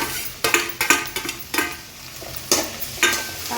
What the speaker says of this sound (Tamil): தக்காளி பழத்தை நல்லா வதக்கிட்டு